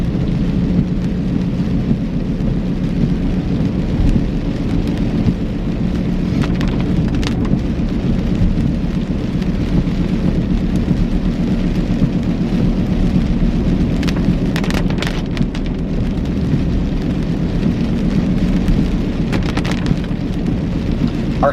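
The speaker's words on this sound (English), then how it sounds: "Does the rain sound peaceful?" Steady rain falls continuously, a dense even hiss with occasional louder patters and a low rumbling undertone, with no voices.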